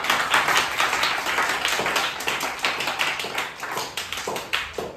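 An audience at a Guru Nanak Gurpurab celebration claps for a guest of honour, a steady run of many hands clapping close by for about five seconds, with no talk over it.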